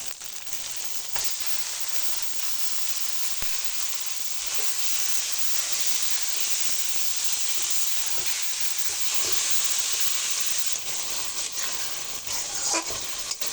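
Fish (Bengali rui-type fish curry) dropped into hot oil seasoned with red chili powder, giving a steady loud frying sizzle and hiss that fills the whole stretch, with occasional stirring clinks and no talking.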